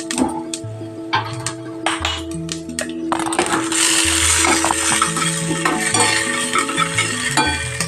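Mustard seeds and cumin sizzling in hot oil for a tempering in a poha recipe. Light metallic clinks of stirring come first, then a dense, crackling sizzle takes over and holds steady.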